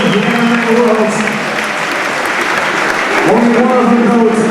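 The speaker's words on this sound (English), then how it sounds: "Give both of them a big round of applause." A crowd applauds after a five-round championship MMA fight, loud sustained clapping and cheering that swells at the start and end, with voices mixed in the crowd noise.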